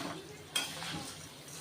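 Fenugreek seeds, 50 g, being stirred continuously in a pan over medium heat while roasting for Kolhapuri onion-garlic masala; soft scraping and rattling of utensil against pan, with one sharper clink, fairly faint and steady.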